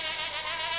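A fly buzzes in a brief, steady, close drone, with a wavering whine that holds for under a second.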